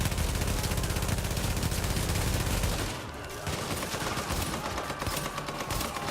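Rapid bursts of gunfire from a video game boss fight, dense and continuous, with a brief dip near the middle before the shooting resumes, no talking.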